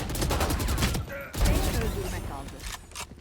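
Rapid Phantom rifle fire in a Valorant deathmatch, several quick bursts of shots up close and loud, with a brief lull midway and game effects mixed in.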